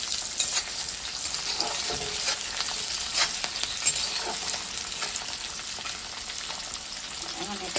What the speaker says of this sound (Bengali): এরপর হচ্ছে সবজিগুলো ভেজে নিতে হবে।